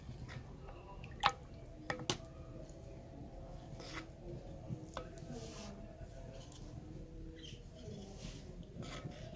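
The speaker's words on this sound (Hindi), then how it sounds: "तो अभी इसको हम अच्छे से मिक्स करेंगे सूजी को दूध के अंदर" Semolina is stirred into milk in a bowl, producing soft wet squishes and small drips with a few light taps against the bowl. The sound is close and fairly quiet, over faint background noise, and no one speaks.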